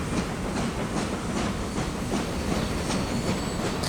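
Trains rolling along rails in the transport simulation game Transport Fever 2, a steady loud rumble with rhythmic clickety-clack wheel beats throughout, no voices.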